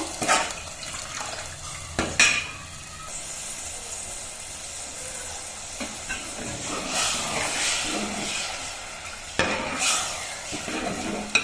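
Tamarind juice boils in a pan for North Karnataka style bhaji, giving a steady close hiss of steam and bubbling with occasional clatters of a utensil stirring against the metal.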